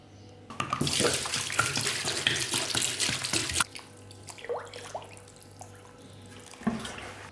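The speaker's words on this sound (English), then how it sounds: "we need to fill our pot up with water and then stick it on the boil" Tap water gushes into a cooking pot for a British Indian restaurant base gravy, a loud, steady splashing stream for about three seconds that stops abruptly, followed by faint drips and small knocks.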